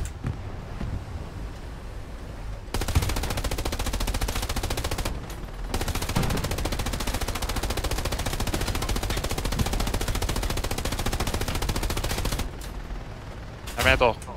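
Sustained machine gun bursts in the World War II shooter Hell Let Loose, dense rapid fire running for long stretches with brief pauses, loud and close amid battlefield noise, with players talking over it.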